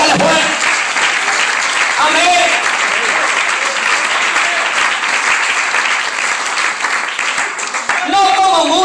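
Congregation applause in a church service, a loud, sustained roar of many hands clapping with voices and cheers mixed throughout, steady for the whole stretch.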